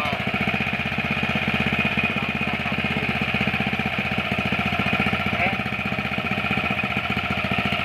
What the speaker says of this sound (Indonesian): Kita engkol ya kawan ya.